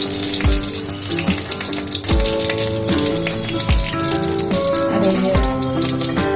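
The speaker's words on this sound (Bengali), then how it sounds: "তেল দিয়ে কড়াই দেবো তেল দিলাম আর একটা শুকনো লঙ্কা দিলাম" A dried red chili sizzles in hot oil in a wok, a steady crackling hiss that runs the whole time under louder instrumental music with deep, regular bass notes.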